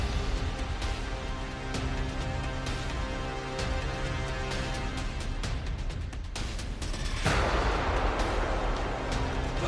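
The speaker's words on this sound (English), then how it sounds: "Just a little run with an explosion behind us." A staged explosion goes off behind running extras on a Star Wars film set, with a sustained loud roar, sharp bursts and rumbling debris that swells toward the end.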